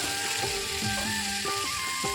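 Pointed gourd fries with spices in a pan, a soft, continuous sizzle broken by a few brief scraping stirs, heard close and alone.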